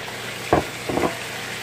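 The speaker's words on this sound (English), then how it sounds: "After you finish stir frying those together, then you just want to go ahead and add your Ackee in." Ackee and saltfish stir-fried in a pan: two brief scraping stirs with a light sizzle, close and fairly quiet, against a steady low background hiss.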